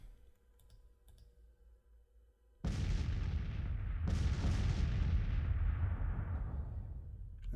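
Artillery fire in the Grand Tactician Civil War strategy game, with a heavy boom erupting after a quiet stretch, then a second blast about a second and a half later, both rolling into a long, loud, rumbling decay.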